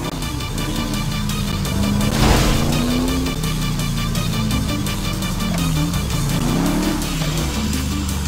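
A powerful motorbike engine races in Grand Theft Auto V, revving loud and steady with wavering pitch as it speeds along, plus a brief burst of road noise midway.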